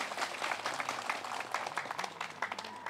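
Audience applause at a stage event, a dense and steady wash of many hands clapping that holds at an even level throughout with no voices on top.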